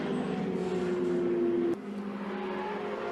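Ferrari 488 GTE turbocharged race car on the final lap of a Trofeo Pirelli race at the Hungaroring, a sustained engine drone that shifts pitch abruptly midway, then continues more quietly.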